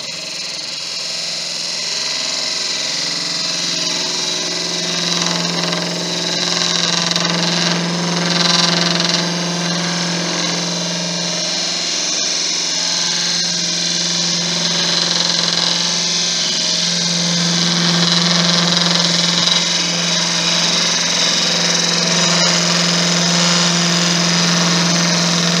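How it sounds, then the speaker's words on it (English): A lathe spins a Thai redwood vase while a sharp spindle gouge takes a light finishing cut, giving a steady, loud mechanical hum and whir with a continuous scraping texture that holds throughout. "favourite spindle gouge now. It's sharp, so let's see about this finish cut."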